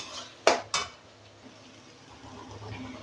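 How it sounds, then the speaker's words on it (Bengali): Chicken curry masala being stirred and mixed in a pot after a little water is added, with two sharp metal spoon-on-pot clanks early on, then a soft low bubbling and scraping background. "সামান্য একটু জল দিই, ভালো করে মিশিয়ে নিই।"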